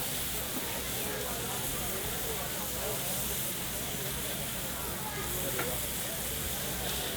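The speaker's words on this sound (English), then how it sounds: "You want to hear that sizzle." Jerk chicken, ribs and hot dogs sizzling on a grill at an outdoor halal food festival in Toronto, a steady dense hiss and crackle throughout, with a crowd murmuring faintly behind it.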